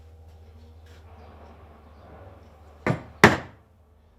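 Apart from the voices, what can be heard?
chisel struck around the outside of a hole in wood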